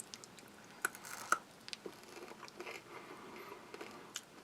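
Someone chews crispy-shelled xylitol gum from a Polish police ration, faint close-up crunches and soft wet squishing bites in an irregular rhythm, alone without talk.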